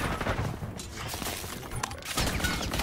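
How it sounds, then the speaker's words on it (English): Gunfire in the Call of Duty: Modern Warfare III video game, a busy stretch of sharp repeated shots and bursts with a louder crack near the end, amid chaotic background battle noise. "I'm sorry that I'm using a sniper rifle. Deal with that noise!"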